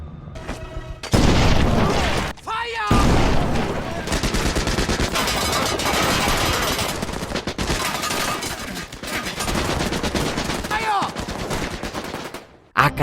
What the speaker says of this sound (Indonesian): Bojes pun menyuruh anggotanya yang bernama Buyung untuk menembak Atami